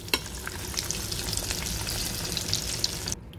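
Steady crackling and sizzling of cheese-stuffed onion rings frying in hot oil, close and continuous, with a few sharper pops.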